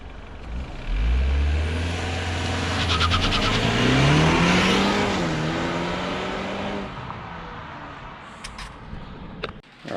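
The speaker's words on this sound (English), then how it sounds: "Gonna do launch control on his new BMW." A new BMW car launches hard from a standstill, engine roaring up through the revs with a gear shift midway, loud and close before fading away into the distance.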